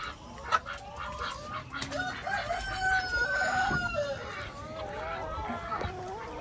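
Laying hens and a rooster on a farm, clucking and crowing close by in overlapping bursts, with some faint human voice in the background.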